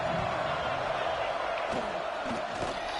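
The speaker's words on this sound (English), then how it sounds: "Sellout crowd here, as you would expect." A sellout stadium crowd in the College Football 26 video game, a dense, continuous roar with no distinct peaks, while a commentator talks over it.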